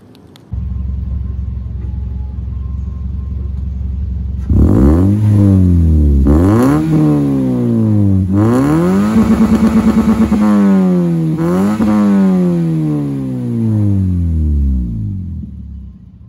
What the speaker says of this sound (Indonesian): Dan juga kita pasangin knalpot racing nih, double muffler teman-teman.